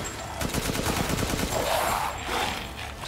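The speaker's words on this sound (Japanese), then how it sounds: "結構適当に撃っちゃってるけど" Rapid bursts of gunfire from Resident Evil Village (PS5), Chris's section, ring out in a dense volley of repeated shots, loud and close, followed by a brief swell of ambient game noise.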